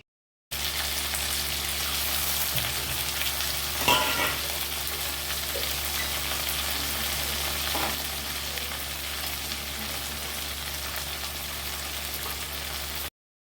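Chopped onions and potato pieces fry for poha in a pan, a steady, even, rain-like sizzle running for many seconds, with one or two soft stirring knocks near the start.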